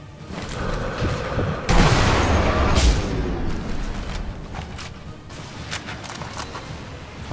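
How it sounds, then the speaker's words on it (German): Gunfire in the WWII shooter Sniper Elite V2 booms out in heavy bursts over a steady roar of background noise, with a loud blast near the middle and sharp cracks trailing off afterward. "Von wo wird hier geschossen?"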